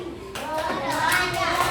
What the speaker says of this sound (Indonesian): Kalau misalkan ibu bilang selamat pagi, kalian tepuk 3 kali.